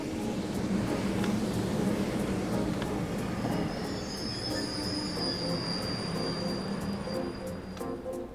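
Train wheels rumble steadily along the rails in the video game Trails of Cold Steel, a continuous close roar with a thin metallic squeal rising partway through.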